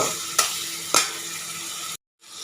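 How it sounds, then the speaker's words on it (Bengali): Oil frying with turmeric and chili being added, a steady close sizzle throughout, two sharp bursts where spices hit the pan, then a brief silence before the sizzle resumes. "তো একটু ভাজা ভাজা হইলে এটার ভিতরে হলুদ মরিচ দিয়ে দিই মনে।"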